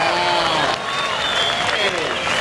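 Crowd on the beach at a J-Bay Open surf contest cheering and applauding after a Hawaiian surfer's tail-high reverse, a sustained wash of clapping and cheers heard under a commentator's voice.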